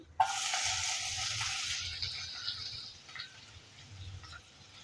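Steady sizzling of onion frying in hot oil, loud at first then easing slightly, with faint stirring clinks near the end.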